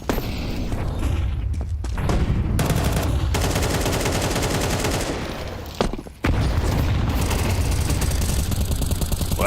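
An AK sprayed in sustained automatic bursts in Counter-Strike during a competitive esports match, loud and dense, with two brief gaps between long runs of fire.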